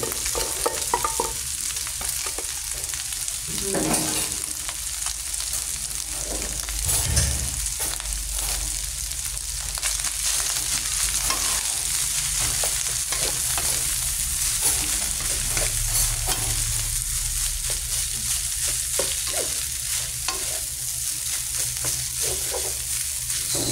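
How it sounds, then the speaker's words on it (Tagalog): Steady, crackling sizzle of leftover rice with soy sauce frying in a hot pan over high heat, with occasional scraping stirs and popping grains throughout, close and loud. "Pag nagsasangag tayo mga dudes, yung tipong itong mga butil na to nagpuputukan"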